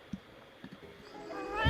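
A pet cat meows once, loud and close, at the end of an otherwise quiet moment with a few faint soft knocks before it.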